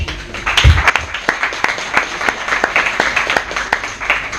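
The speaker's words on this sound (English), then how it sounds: "Round of applause for Eric." An audience at a debate on whether Islam is a religion of peace breaks into applause, one sharp clap standing out before a loose, moderate spread of individual claps continues steadily from nearby listeners.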